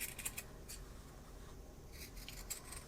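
Scissors cut through a T-shirt along a pen line, a few quiet snipping and fabric-rasp bursts spaced irregularly against a faint hushed background.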